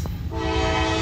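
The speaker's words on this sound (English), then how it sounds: "Horn salute." A loaded coal train comes on close, and its horn sounds one sustained, loud blast over the heavy rumble of the wagons rolling by.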